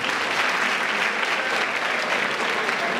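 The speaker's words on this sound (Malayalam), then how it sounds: "യൂണിയന് നല്ലൊരു കയ്യടി." Audience applause at a college day inauguration at Nirmala College, Muvattupuzha: steady, dense clapping from a large crowd that stays loud and even throughout, with no voice over it.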